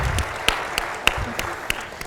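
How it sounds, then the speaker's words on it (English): An audience at a university public forum claps together, a steady patter of many hands at moderate volume with a few sharper individual claps standing out. "So a round of applause, please, for our"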